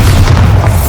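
A Bombarda explosion spell in the Hogwarts Legacy video game, a deep, loud booming blast with low rumble filling the whole second, heard alone with no talk.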